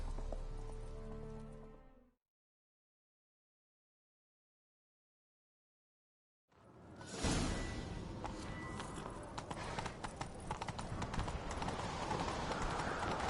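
After a brief stretch of silence, rapid hoofbeats of a galloping horse in The Witcher 3: Wild Hunt start up and continue loudly, with a busy rushing background.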